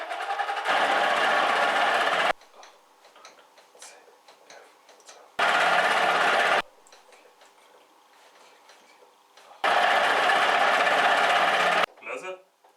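Mini lathe turning a steel workpiece on a final pass, a steady loud machining whine in three sustained stretches separated by quieter pauses with faint ticking and handling sounds.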